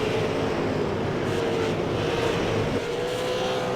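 Super late model race cars roar around the 4/10-mile Oxford Plains Speedway oval, a loud, continuous engine drone with rising and falling pitch as the pack races into turn one.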